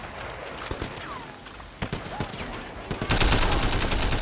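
Assault rifle fire in the Sleeping Dogs video game, with sharp bursts of shots and clattering bangs under faint game sounds, turning into a dense, loud volley near the end.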